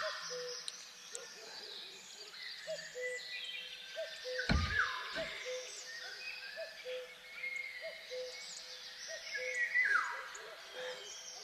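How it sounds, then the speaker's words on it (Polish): Birds call on a spring morning in Polesie National Park, with repeated chirps and song phrases from several birds at moderate distance, a couple of low hoot-like notes, and a brief louder thump midway. "Posłuchajcie tylko tego śpiewu ptaków."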